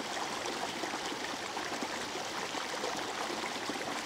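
Clean stream water rushing over stones in a shaded spot, a steady close broadband flow with no speech; birds are not distinct under the water.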